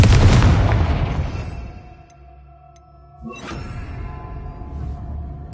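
Confringo spell blast in Hogwarts Legacy: a loud booming explosion that rumbles and decays over two seconds, followed by a second softer impact with a brief whoosh and lingering ambient rumble.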